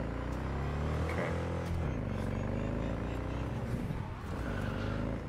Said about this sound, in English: This motorbike is like sliding like crazy.